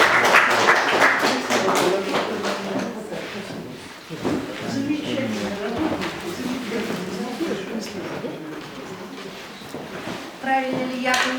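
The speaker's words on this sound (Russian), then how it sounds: "Аплодисменты, пожалуйста." Audience at a poetry reading applauds steadily, dense clapping filling the room with a brief dip midway, and some voices mixed in.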